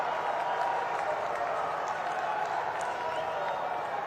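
A political rally crowd claps in praise of the government, a continuous, even roar of distant applause and crowd noise with no clear individual claps standing out.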